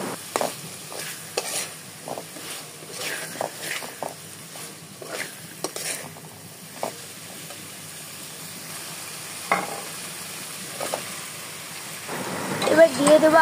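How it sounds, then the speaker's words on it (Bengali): Chopped eggplant fries with spices in a pan, with a soft sizzle under repeated scraping stir strokes that come in irregular bursts, as a voice talks at times. "এবার এর মধ্যে দিয়ে দিতে হবে বেগুন কুচিগুলোকে দিয়ে পর আবার খুব ভালো মতো মশলার সাথে নাড়িয়ে নেব"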